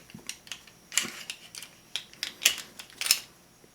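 An airsoft pistol upper is taken apart by hand as the recoil guide rod and outer barrel come out, giving a string of close, small plastic and metal clicks and scrapes in an irregular rhythm.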